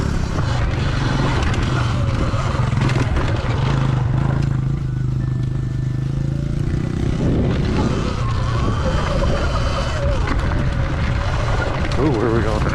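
A Surron electric dirt bike ridden around a farm, heard as loud continuous wind rush and buffeting with a faint motor whine, and a rider talking over it.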